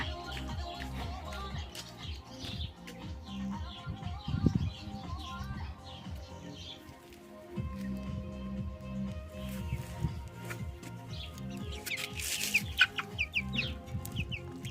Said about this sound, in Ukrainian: То наші курчата.